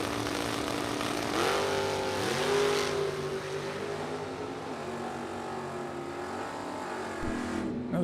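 A 1969 Camaro drag car launches down the strip at a drag race, a loud engine howl rising through gear changes, then roaring on and fading slightly before an abrupt cut.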